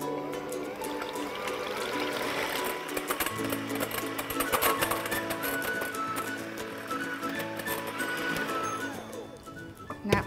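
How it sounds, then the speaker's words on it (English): Electric beaters whisk egg whites for meringue in a bowl, a continuous close whirring and rattling that holds steady for the whole stretch. "whisk the eggs until they're really stiff before you start to add any sugar"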